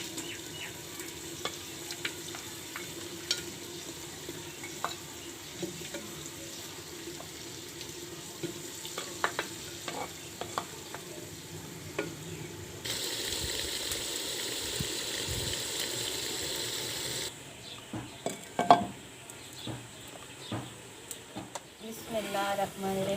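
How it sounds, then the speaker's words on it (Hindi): Mutton tripe (ojri) fries and is stirred in masala in a village-style kitchen, giving a steady low sizzle with scraping stirs. A louder burst of hissing water or a running tap cuts in midway, and faint clatter follows. "ओजरी को अच्छी तरह से भून दें मसाले में।"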